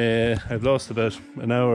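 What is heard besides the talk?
cattle bawling in the background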